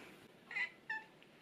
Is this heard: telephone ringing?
no